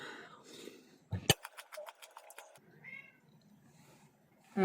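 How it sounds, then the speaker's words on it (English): A cat meows several times nearby, with a sharp clatter and a burst of rapid tapping in between; a faint voice murmurs briefly at the start. "My cat is locked outside."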